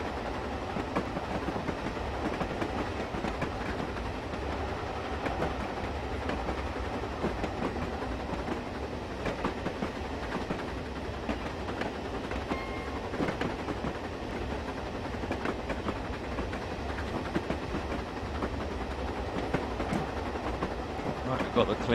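An old SPNS 484 steam locomotive in Train Simulator 2016 on the Western Lines of Scotland, rumbling continuously with rhythmic clanks and rail clatter at steady loudness throughout.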